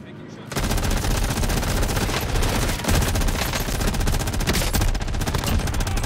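Rapid bursts of C58 rifle fire in a video game fill the whole stretch, loud, dense and near-continuous after a brief quiet start.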